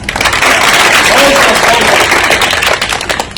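Applause for a student at a school gathering: dense, steady clapping from an audience that holds for about three seconds and then tapers slightly at the end.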